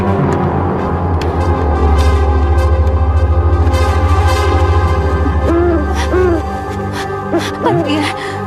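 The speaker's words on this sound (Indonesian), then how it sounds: "Maksudku burung hantu." An owl hoots at night in a few soft, rounded calls over a steady low hum and background noise, with a voice briefly heard nearby.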